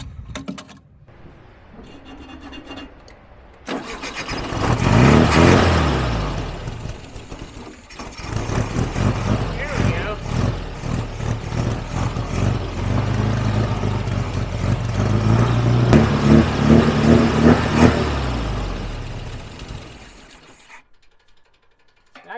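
A 1974 VW Beetle engine runs up close, surging loudly through repeated revs with rough, uneven rattling and mechanical clatter, then dropping back and cutting out near the end.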